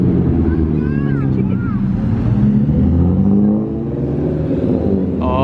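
A Porsche GT3 RS and an orange Ford GT500 supercar drive past on a city street near Dallas, loud continuous engine roar filling the scene with a rising pitch, as a voice talks over it.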